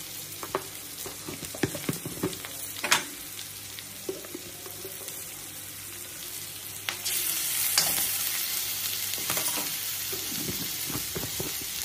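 Ginger-garlic paste frying in hot oil for a Maharashtrian methi pithla, a close sizzle broken by scattered spoon clicks and stirring scrapes, swelling into a louder, steady hiss partway through.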